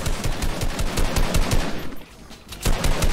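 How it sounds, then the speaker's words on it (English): Rapid automatic gunfire in a Fortnite match, loud and close, bursts of shots repeating with a brief lull before another burst resumes. "now we have someone shooting at me from over there"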